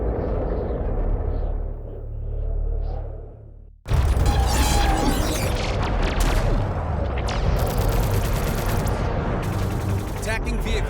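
Weapon fire in a science-fiction film battle: after a quieter rumbling passage, a sudden loud eruption of rapid gunfire and booming blasts continues densely to the end, filling the scene.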